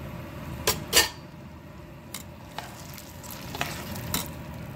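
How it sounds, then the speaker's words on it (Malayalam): A spoon stirs pudding mixture in a pan as fried ingredients are added, giving a steady soft scraping with a couple of sharp metallic clinks early on and a few lighter taps later. "ഇളക്കി കൊടുക്കുക."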